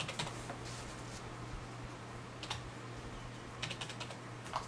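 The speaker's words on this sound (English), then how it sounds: "I'm going to type in 123." Quiet, close keystrokes on a computer keyboard while entering text into a Windows 7 registry dialog, a few scattered clicks in short bursts over a faint steady hum.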